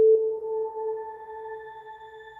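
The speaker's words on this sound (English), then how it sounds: "So we can hear that the reverb tail is pitch shifting upwards." A steady sine tone from the Arturia Pigments 4 synthesizer with a pitch-shifting shimmer reverb tail whose upper harmonics rise in pitch, layering into a bright, sustained chord that gently fades.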